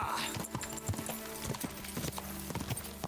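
Horse hooves clip-clop steadily in a video game as a mount rides along, with rhythmic clopping under continuous music or game sound.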